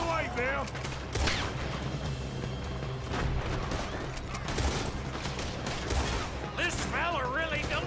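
Gunfire in the video game Red Dead Redemption, repeated shots and bursts in a running firefight, with voices talking and shouting over it.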